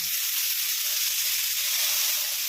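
Chopped tomato hits frying onion and potato in a pan while making a home-style sattu (chhatu) dish, producing a steady, close hiss that stays even and unbroken.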